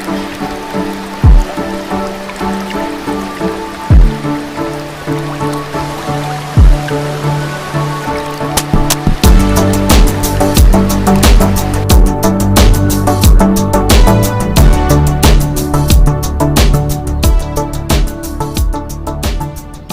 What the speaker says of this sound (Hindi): ये झरना है यार